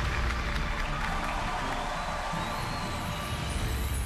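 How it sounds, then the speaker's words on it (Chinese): A studio audience applauds as guests walk onto the stage of an antiques appraisal show, a dense, continuous wash of clapping from a crowd, fairly distant and steady throughout. "让我们用热烈的掌声来有请双方持宝人登场"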